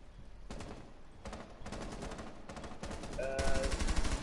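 Bursts of automatic gunfire in the tactical shooter Rainbow Six Siege, three or four loud rattling volleys that swell and grow denser toward the end, with no one talking.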